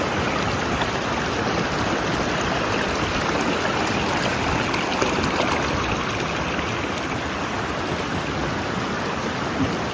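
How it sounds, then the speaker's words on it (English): A rocky stream flows into the ocean beside a beach, making a continuous broadband rush and gurgle of water that stays steady and fairly close throughout. "it's a flowing stream. The stream flows from the river into the ocean"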